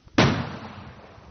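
A single sharp gunshot cracks out loud and close, then trails off into a long rolling echo, with no other sound around it.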